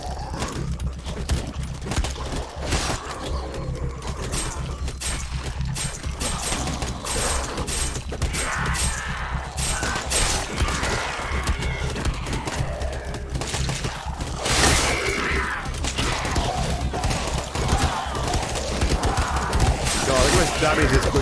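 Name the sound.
gunfire shooting a butcher enemy, Night of the Dead video game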